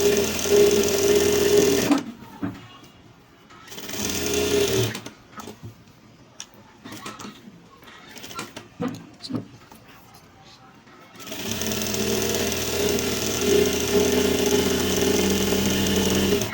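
A sewing machine stitches the side seam of a girl's kameez in loud, close, rapid whirring runs, pausing midway while light handling sounds and quiet talk fill the gap before it starts again.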